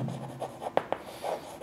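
Pen writing on paper, close and quiet, with soft rhythmic scratching strokes and a couple of sharper taps.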